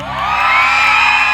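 A large audience at a stage show hoots and whoops together, a loud sustained mass of high voices swelling slightly and holding for the full moment.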